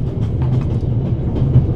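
A train rolls along its rails in The Raven Remastered. It gives a loud, steady low rumble with a faint rhythmic clatter, heard from inside the carriage with no voices.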